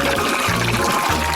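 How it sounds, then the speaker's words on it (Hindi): Water is poured onto a tree in a steady, loud gushing stream that splashes continuously, with a pulsing low rumble underneath. "अच्छे से पानी डाला।"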